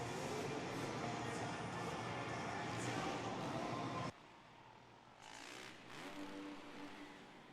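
Freestyle motocross bikes rev loudly at a Monster Jam event in Manchester, New Hampshire, engine roar mixing with dense crowd noise, then dropping suddenly before rising again more distantly.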